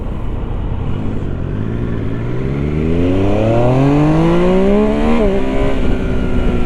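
A Triumph Trident 800 motorcycle engine revs up steadily, its pitch climbing over several seconds before dropping briefly, loud and close with constant mechanical roar.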